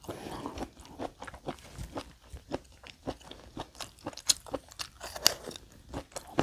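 A whole abalone is chewed in big bites, with close, wet crunching and squelching in a steady chewing rhythm, with no talk over it.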